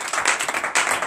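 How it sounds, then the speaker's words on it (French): A church congregation at a Thursday morning prayer service in Benin applauds loudly, a dense wash of many hands clapping in two bursts with a brief dip between them. "Donc je vous demande d'applaudir très fort."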